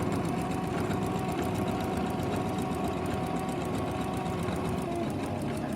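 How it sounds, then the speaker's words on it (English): A domestic sewing machine stitches down the bias binding along a patchwork quilt's edge, running steadily and continuously at close range with a dense, even mechanical whir throughout. "we need to sew down past there so that's catching it"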